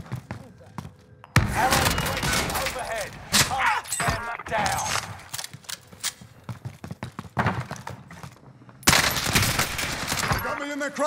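Gunfire in Call of Duty Warzone on Rebirth Island, with an AMAX rifle among the weapons: loud, repeated bursts of shots in uneven clusters, sharp close cracks mixed with rattling volleys, and voices talking in between.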